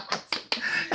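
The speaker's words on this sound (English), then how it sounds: "now you can clap." Single hand claps ring out sharply at close range, three or four quick separate smacks within a second, with no talking.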